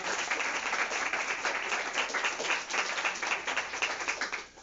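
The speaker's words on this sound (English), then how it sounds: "Big applause to Martin." Audience applause at a talk or lecture, a steady round of many hands clapping for about four seconds before fading at the end.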